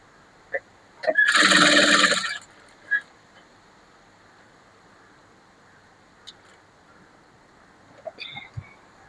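A small sewing machine stitches blouse lining in one brief whirring run of about a second and a half, close and fairly loud, surrounded by quiet handling clicks and rustles.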